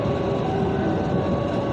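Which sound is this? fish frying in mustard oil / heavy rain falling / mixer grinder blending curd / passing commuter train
passing commuter train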